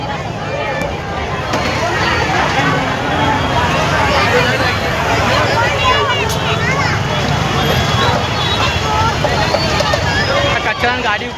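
Loud, dense crowd babble from the packed streets of the Ahmedabad Rath Yatra, a continuous roar of many overlapping voices with traffic and bustle mixed in, close and unbroken throughout.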